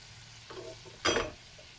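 Bombay duck pakoda pieces sizzle softly in a pan of hot oil, with a brief, louder hiss and spatter as a piece is turned partway through.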